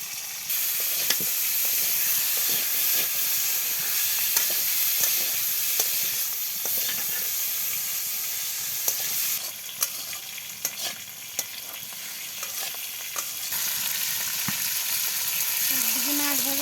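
Fish and cauliflower frying in oil in separate pans give a constant loud sizzle and hiss with scattered scrapes and knocks of stirring, close up, in a village kitchen.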